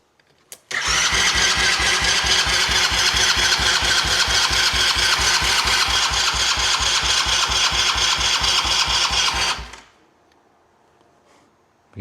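Cheap used ATV engine cranking on fresh gas with the choke on, a steady rapid mechanical chatter close by and loud for about nine seconds before cutting off abruptly.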